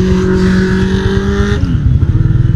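An old-shape Kawasaki ZX10R sportbike with a full-system exhaust revs hard and close, holding a loud, high engine note before the revs drop sharply into a rough, throbbing idle burble.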